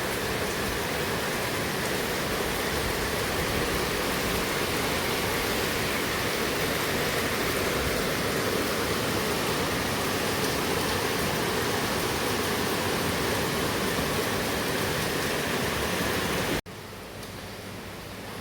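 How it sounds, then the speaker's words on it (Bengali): Steady rain pours continuously with an even, hissing roar, then drops abruptly to a quieter background near the end. "সারা রাত থেকে বৃষ্টি হচ্ছে"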